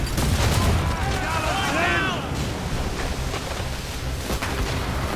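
Ship cannons fire in a naval battle in the video game Assassin's Creed Rogue, with heavy booms over rolling waves and wind while crew voices shout orders.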